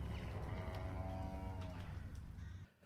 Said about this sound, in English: some cows from the University of Bristol.